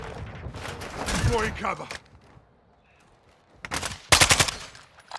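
Gunfire in Call of Duty Modern Warfare II at a shoot house, two loud bursts of rapid automatic shots separated by a quiet gap, with a spoken voice line between them.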